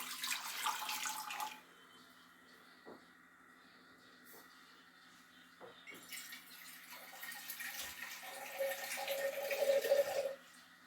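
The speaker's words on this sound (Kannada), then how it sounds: "ಪಾತ್ರೆನ ಬಿಸಿ ಮಾಡೋಕ್ಕಿಟ್ಟಿದ್ದೀನಿ ಅದಕ್ಕೆ ನೀರು ಹಾಕೋತಾ ಇದ್ದೀನಿ" Water is poured into a hot pot, first in a brief splashy burst, then after a quiet pause in a longer, rising pour.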